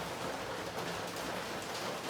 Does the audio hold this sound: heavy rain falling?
yes